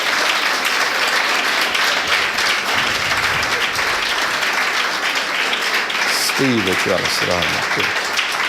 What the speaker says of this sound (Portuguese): Damos um aplauso para Jesus.